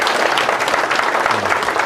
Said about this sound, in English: Give him a warm applause for...